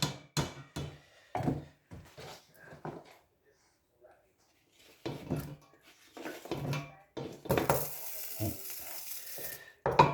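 Leeks, potatoes and onions go into melted butter in a pan for potato leek soup, bursts of sizzling and stirring rising under a person talking, the frying hiss loudest toward the end.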